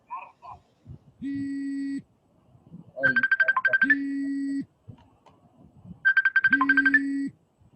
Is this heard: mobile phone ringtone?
yes